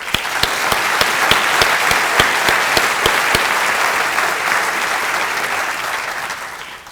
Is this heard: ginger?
no